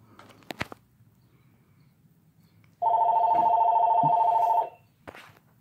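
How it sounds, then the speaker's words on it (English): A telephone rings in one steady electronic trill lasting about two seconds, clear and fairly close in a quiet room, with a few soft clicks and handling noises before and after. "And the phone rings at a perfect time, right when I'm about to end the video."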